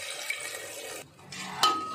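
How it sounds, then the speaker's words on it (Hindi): Water is poured into a sizzling pan of mutton kofta curry masala, a close rushing, hissing gush that briefly drops away and then surges again with a sharp splash near the end. "इसमें पानी डालेंगे"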